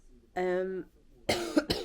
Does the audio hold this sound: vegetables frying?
no